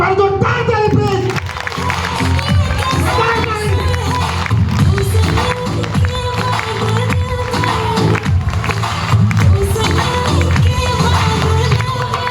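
An audience at a public gathering in a palace hall claps, a dense, sustained patter of many hands close by that continues for several seconds.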